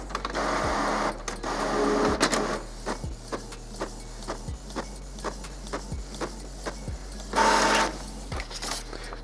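A Canon Pixma iP7250 inkjet printer runs a nozzle check test page, its print head shuttling back and forth in regular mechanical passes with clicks and a brief louder feed whir, close and alone.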